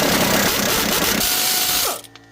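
Steady rapid clicking of a ratchet wrench with a 17 mm socket working rusted rear brake bolts on a Mazda CX7, loud and close for about two seconds before stopping abruptly.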